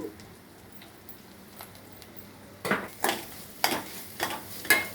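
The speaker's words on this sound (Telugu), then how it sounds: "ఇప్పుడు కొబ్బరి ఇలా వేయించుకున్నాము" Grated coconut roasting in a pan for a Navratri prasadam, heard as scraping stir strokes and soft sizzle, a quiet stretch then several louder scrapes at irregular intervals, close up with no voices.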